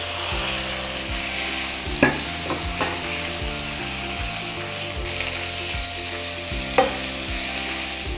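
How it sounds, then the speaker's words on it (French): Beef stir-fried over high heat for Vietnamese stir-fried noodles with beef, giving a steady loud sizzle with a low background hum and a few sharp utensil clacks against the pan. "c'est l'étape de sauter le bœuf à feu vif"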